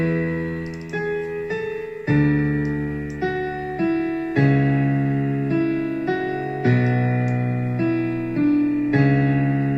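A grand piano plays a bass line on its own, a steady run of low notes struck one after another, each ringing and decaying before the next, loud and close with no voices.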